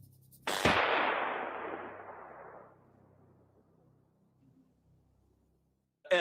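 A precisely measured, pressurized gas mixture ignites in a test matching the conditions of a burning torpedo compartment. A single sudden, loud blast is followed by a long, fading roar, then quiet.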